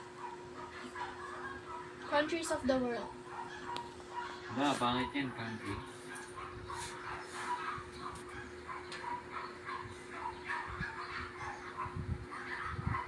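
Dogs yap and bark in short bursts amid steady background talk, with a constant electrical hum running underneath.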